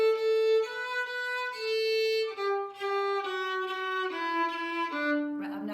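Fiddle bowing the simple tune Twinkle Twinkle Little Star, a sequence of sustained, stepwise bowed notes with short breaks between phrases, close and clear, played solo with no talking.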